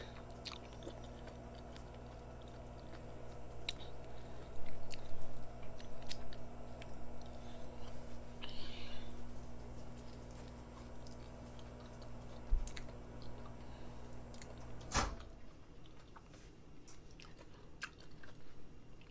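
Someone eating fresh durian fruit, with soft close-up chewing and biting sounds over a steady low background hum and a sharp click near the end.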